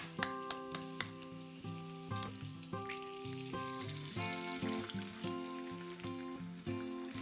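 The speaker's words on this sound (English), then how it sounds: "while the other side of the pancetta is cooking, the egg will cook too" Pancetta and an egg fry sunny side up in a pan with a soft, continuous sizzle and a few light pops, faint beneath louder background music.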